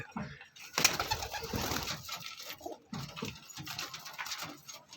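Rampuri pigeons coo steadily in a busy loft, with soft wing flutters and bird noise throughout, no talking.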